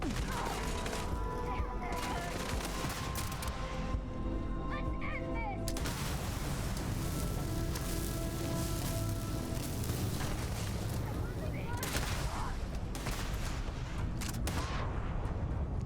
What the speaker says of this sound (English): Wait, who is shooting at me?